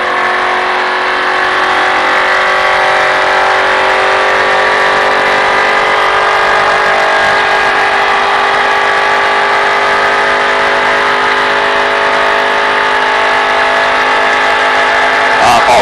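A car on a race track runs hard under steady throttle, its engine a loud, close, sustained harmonic drone that holds a nearly constant pitch throughout.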